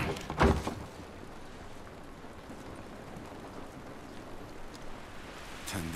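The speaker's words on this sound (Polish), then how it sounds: "Ten deszcz nam nie pomógł." Steady rain falls in The Last of Us, a constant even hiss with a brief sharper splash near the start and another at the end, no voices.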